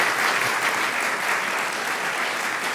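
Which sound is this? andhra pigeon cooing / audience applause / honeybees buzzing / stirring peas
audience applause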